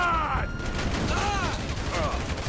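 GTA 5 gunfire rattles in bursts through a firefight, with game sound effects layered over continuous background noise while people talk over it.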